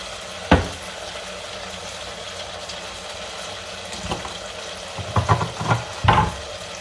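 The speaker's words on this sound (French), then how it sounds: "Vous voyez que la viande est en train de bien frire." Meat frying in a pan with garlic, a quiet steady sizzle broken by a few sharp clacks and scrapes of stirring near the end.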